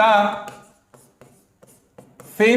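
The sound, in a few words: writing on paper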